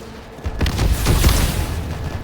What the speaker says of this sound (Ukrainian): Гравці посадили ботів за пушку і вони стріляють, типу, димами